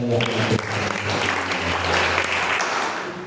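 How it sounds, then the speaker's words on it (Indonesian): A church congregation claps together during a Pentecost Sunday service, a steady wash of applause with a sustained low musical tone beneath it, fairly loud and continuous throughout. "Tepuk tangan sekali lagi."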